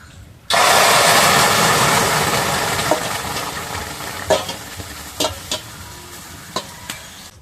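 Raw mango pulp poured into a hot wok bursts into a loud hissing sizzle that slowly fades, followed by a few sharp scraping and stirring clacks of a spoon against the metal.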